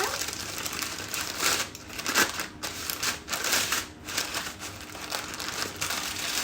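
Greaseproof paper is folded and crinkled close by, with soft irregular rustling and crackling, quiet and continuous across several seconds.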